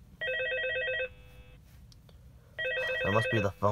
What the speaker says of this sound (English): That must be the phone.